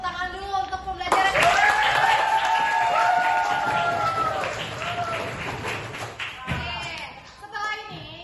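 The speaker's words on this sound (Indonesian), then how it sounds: "kita tepuk tangan dulu untuk pembelajaran" A group of children clapping hands in a classroom, a loud burst of crowded clapping with a voice over it, then fading into talk.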